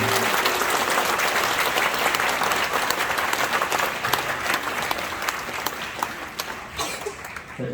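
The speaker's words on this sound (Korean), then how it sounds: "박수 쳐주시고" A church congregation at an anniversary service with an elder ordination claps together, a dense sustained applause close by that gradually loosens into scattered claps toward the end.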